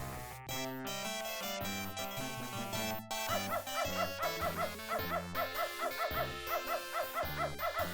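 A dog barks and whimpers in the video game Beneath a Steel Sky, with repeated rhythmic yelps over steady game music for about eight seconds.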